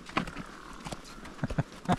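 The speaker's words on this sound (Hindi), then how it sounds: "घोड़ा जंप करेगा धीरे धीरे" A horse's hooves clip-clop on a mountain trail at Baisaran near Pahalgam, Kashmir, in an uneven walking rhythm of close, sharp knocks. A faint murmur of outdoor background sound lies underneath.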